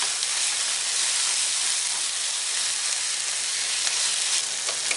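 A spinach and vegetable mixture sautéing in a pan gives a loud, steady, close sizzle that holds evenly throughout with no voices.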